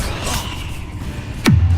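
A Confringo fire spell from Hogwarts Legacy bursts near the end with a bright whoosh that drops into a heavy low boom, following a stretch of steady background ambience.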